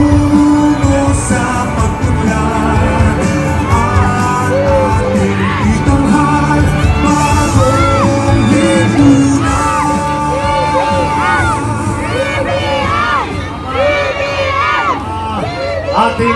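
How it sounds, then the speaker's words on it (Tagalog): A large political rally crowd in Alaminos City, Pangasinan shouts and cheers continuously, with dense overlapping yells, whoops and chanting that stay loud throughout. "Once again, sabay-sabay po tayo sumigaw, Bongbong Sara!"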